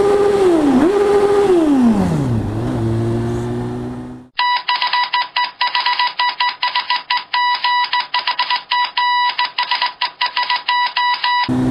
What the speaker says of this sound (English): rev bomb for the grand finale here